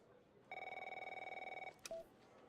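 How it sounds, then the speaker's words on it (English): A ringing telephone inside a video game sounds a steady electronic ring pattern for about a second, loud and clear, followed by a short beep. "There's a phone call."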